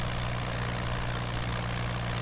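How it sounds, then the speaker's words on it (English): Single-engine Curtiss JN-4 Jenny biplane in Microsoft Flight Simulator, throttled back: a steady, loud low propeller drone with a constant engine hum, continuous and unbroken, with no talk. "And I cut back a little bit on the engine."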